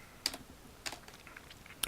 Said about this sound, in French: Donc on va noter quelque chose au clavier